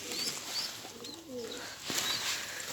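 Pigeons at a home loft coo softly while being fed, low murmuring coos with faint chirps against quiet background noise, no talking.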